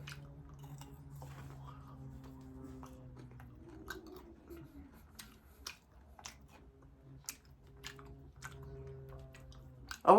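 Someone eats a crunchy Mr Beast chocolate bar up close, with quiet, steady chewing and sparse sharper crunches and clicks spaced through the stretch, and no talk.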